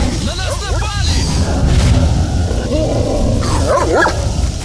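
Dogs in the S.T.A.L.K.E.R. Shadow of Chernobyl game scuffling and chasing each other at night, with yips, whimpers and short barks over a steady ambient rumble, fairly close.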